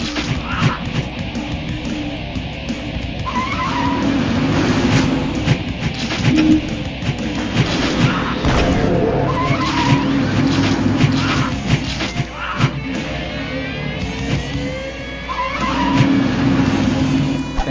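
Car driving and crashing in a video game, a steady loud engine drone with scattered impacts and skids, alone without talk.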